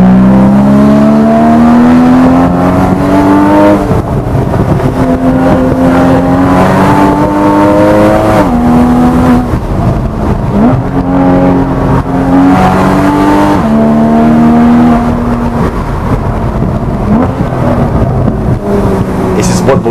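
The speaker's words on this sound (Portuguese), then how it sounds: "Ronco de 6 cilindros Boxster é uma coisa de louco." A Porsche Boxster GTS six-cylinder engine roars loudly and steadily, its pitch climbing and falling through repeated revs on a country road, with people talking over it throughout.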